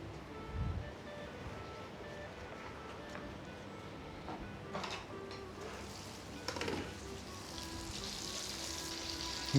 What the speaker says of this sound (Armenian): Կարող են դա էլ տապակել մյուս թավայի մեջ։